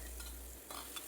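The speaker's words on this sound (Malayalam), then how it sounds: "കടുക് പൊട്ടി വരുമ്പോൾ" Half a teaspoon of mustard seeds splutter in two to three tablespoons of hot coconut oil, a faint steady sizzle broken by a couple of sharp pops near the end.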